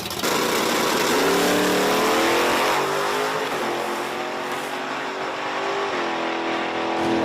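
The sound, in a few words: S10 pickup truck and Nova drag racing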